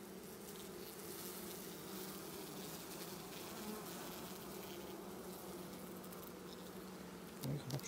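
Dense, continuous buzzing of many honeybees close up, a steady low drone with a faint knock near the end.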